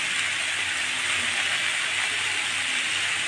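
Potatoes seasoned with salt and turmeric fry on medium heat in a pan, giving a steady, close, even sizzle and hiss throughout with no talking.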